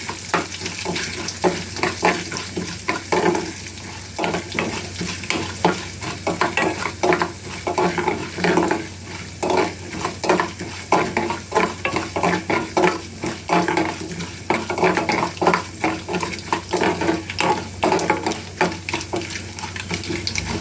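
Urad dal and cashews roasting in a pan with oil, a continuous sizzle broken by rhythmic scraping and stirring strokes from a spatula, close and fairly loud throughout, with no speech.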